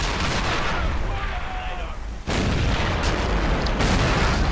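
Continuous rumbling barrage of German artillery fire in the video game Men of War Assault Squad 2, loud and dense with booms and gunfire, briefly dipping before resuming with a fresh blast.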